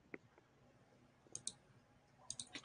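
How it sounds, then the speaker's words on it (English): Sparse keyboard clicks from typing at a computer, a single tap then two short bursts of keystrokes, faint and close with an open microphone, no voice over them. "I was typing and I had my mic open."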